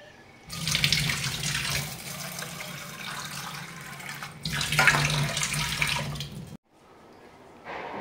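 A kitchen tap runs loudly into a vessel to soak lentils, gushing in two bursts with a short pause between, then shutting off to near quiet.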